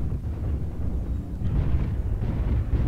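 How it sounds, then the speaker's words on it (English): Artillery strike explosions in a mech combat video game, a continuous low rumbling barrage of distant booms with no voices. "Artillery strike activated."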